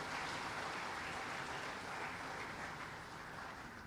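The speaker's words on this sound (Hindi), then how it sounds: "एक बार शिवेंद्र जी का भी ताली बजा के स्वागत कीजिए" A crowd at a state sports ceremony welcoming an Olympic hockey assistant coach breaks into continuous applause, an even, dense hiss of clapping held at steady volume throughout, heard from a distance.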